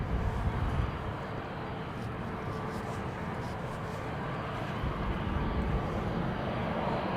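A Boeing 747 cargo plane taxiing at Amsterdam Schiphol, a low, steady rumbling engine drone at a distance, dense in the low end and fairly even throughout, with no voices.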